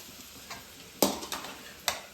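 Desi okra curry is tempered and stirred in a pan: a soft sizzle is broken by three sharp scraping clatters of a spoon against the pan, fairly close.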